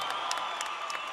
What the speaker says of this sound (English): A loud round of applause for these 2 fighters.